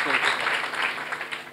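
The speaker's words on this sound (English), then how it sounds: "Round of applause, come on." Audience applause at a business sales conference as a speaker is invited on stage, moderate clapping with a voice or hum running underneath.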